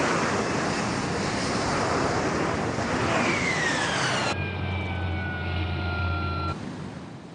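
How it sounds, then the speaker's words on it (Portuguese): Harrier jump jet hovering at full engine power, a loud roaring jet wash with rising whines that gives way to a sustained steady turbine howl, then fades. "Quando ele paira, o motor funciona com força total."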